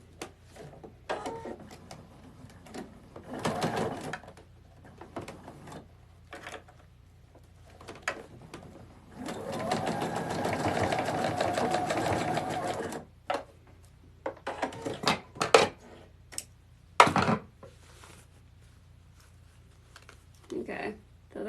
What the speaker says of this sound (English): I'm going to sew that in real quick.